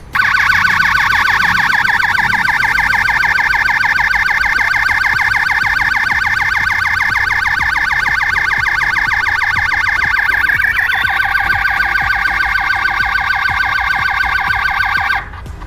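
Electronic alarm siren from a motion sensor security light, a loud, steady, rapidly warbling wail held close to the device for about fifteen seconds, shifting pitch briefly midway before cutting off abruptly near the end.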